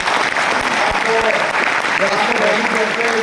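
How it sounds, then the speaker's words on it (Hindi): Loud applause from the audience at a mindset training session in Patna, dense clapping filling the room, with a voice speaking over it partway through. "इनके लिए जोरदार ताली होनी चाहिए"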